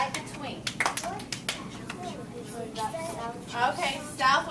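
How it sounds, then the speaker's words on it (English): Second-grade children clap their hands in a classroom during a map and directions lesson, a scattered burst of several quick claps mixed with children's voices and a teacher talking. "And clap in the middle."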